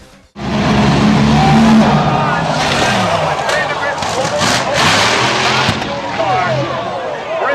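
A top fuel blown dragster roars down the drag strip in a crash sequence, loud sustained engine noise with squealing tires, all under an excited commentator's voice.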